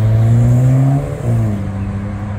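A 2023 Corvette Z06 at the National Corvette Museum pulls away, its loud engine droning steadily and then dipping briefly before settling into a lower, continuous hum as it moves off.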